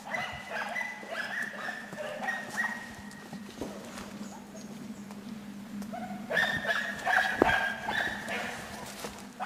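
Hunting dogs barking in bursts during a wild boar hunt, the yelps loud and repeated near the start and again toward the end over a steady outdoor background, with some voices mixed in.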